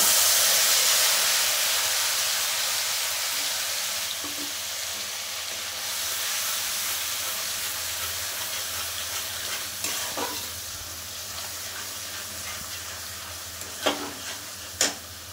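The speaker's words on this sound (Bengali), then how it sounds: "এবার আমি এই মশলাটা এর মধ্যে অ্যাড করব।" Spice paste (masala) hitting a hot pan for a besan and posto bora curry, a loud steady sizzle and hiss with stirring that slowly eases, then a few sharp scrapes and clinks of a spoon near the end.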